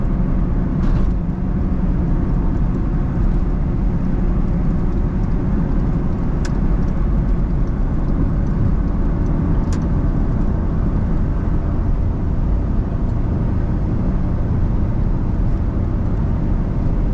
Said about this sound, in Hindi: कैबिन में थोड़ी नॉइज आती है